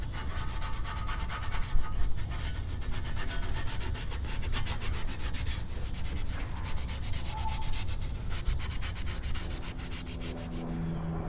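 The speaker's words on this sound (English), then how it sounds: "Finished up with all the sanding now." Brake calipers from a Dodge Charger are scrubbed with a maroon Scotch-Brite pad, producing a dense, continuous rasping rub with rapid back-and-forth strokes, close and loud with no voices.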